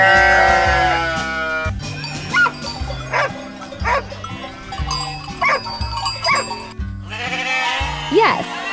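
A sheep bleats repeatedly, loud and close, with wavering calls over a bouncy musical backing; dog-like barks and yips are mixed in among the cries.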